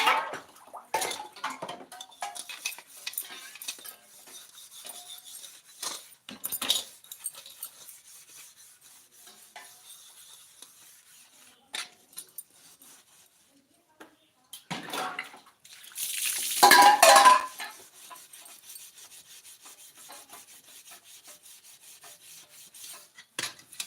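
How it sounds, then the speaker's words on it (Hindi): Dishes, pots and pans being scrubbed and washed outdoors in the sun in a village in Pratapgarh, Uttar Pradesh: intermittent scraping, rubbing and metal clatter, with water splashing and a loud burst near the middle, close by. "देख लो बर्तन मांज रहे हैं सब लोग देख लो बर्तन भी मांजते हैं"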